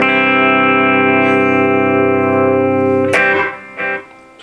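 A Telecaster-style guitar built from a cheap kit, switched to the bridge pickup, sounds a bright sustained chord for about three seconds, followed by a couple of short choppy strums that die away.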